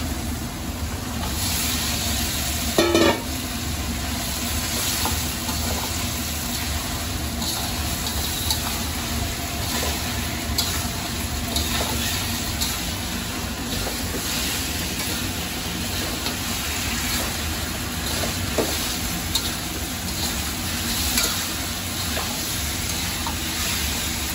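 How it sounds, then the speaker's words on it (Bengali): Fresh goat meat goes into fried spice paste in a pan for a curry, hissing in a steady, moderately loud sizzle with occasional stirring scrapes and knocks throughout. "এখন আমি মাংসটা দিয়ে দিই এখানে"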